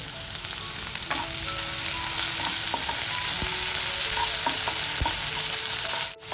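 Finely chopped onion and curry leaves fry in a pan for an egg bhurji sandwich, giving a constant close sizzle with light utensil clinks and stirring scrapes, no talking.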